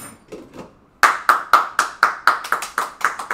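Sharp, evenly spaced hand claps ring out close and loud, about a dozen strokes in a steady rhythm that quickens toward the end, following a few softer taps in a kitchen setting.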